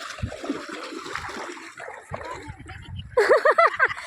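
Deep sea water in Goa splashing and sloshing around people wading in, with soft watery movement under nearby voices and talk, and a burst of louder, higher-pitched voices near the end.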